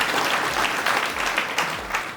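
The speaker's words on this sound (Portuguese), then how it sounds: "Salva de palmas, por favor, Doriva." Audience applause from a live panel event, a dense, steady burst of many hands clapping close by for about two seconds, holding at an even level before tapering slightly at the end.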